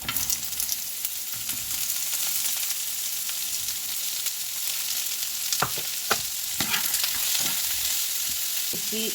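Pumpkin fries in a little oil with black cumin, a steady close sizzle punctuated by a few sharp stirring scrapes in the second half, with no voices.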